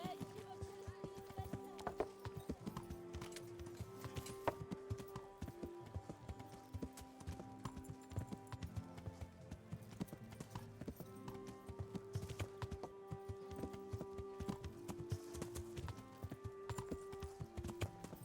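Steady clip-clop of horse hooves galloping in the video game Kingdom Come: Deliverance, a continuous rhythmic beat under game music and someone speaking.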